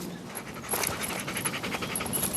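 A dog pants hard and fast at close range with strained, raspy breaths while struggling, being strangled by a leash cord wrapped around her neck.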